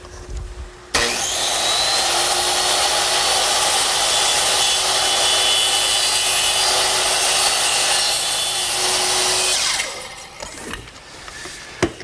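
A power saw makes short angled freehand cuts in wood while building a Shaker two-drawer blanket chest, one long steady high-pitched whine of about nine seconds, loud and close, then it spins down into quiet shop noise.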